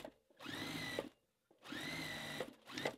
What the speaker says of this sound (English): I'll just start stitching where I ended here and stitch all the way down